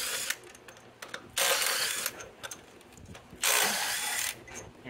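A ratchet works the 15mm bolts off the motor mount of a Chevrolet Cruze supported on a jack: close, loud bursts of rapid clicking with brief mechanical rattles between them.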